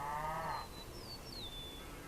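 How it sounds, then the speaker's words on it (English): A cow lets out one short moo at the start, faint and at a distance, followed by thin high bird whistles over a low outdoor hum. "Freaking cows!"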